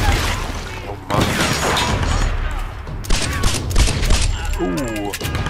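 Rapid gunfire from the Tomb Raider video game crackles in dense bursts, loud and close, with several sharp shots and a short pause before more firing.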